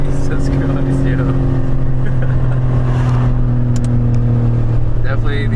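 A heavily modified Le Mans Blue BMW M4 G82 accelerates hard, heard from inside the cabin as a loud, steady engine roar that holds throughout, with voices faintly present.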